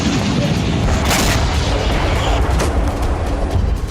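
Heavy explosions shake Israel, a dense, continuous roar of low booms and blasts with bursts of rumbling impacts, loud and sustained throughout, with faint voices underneath.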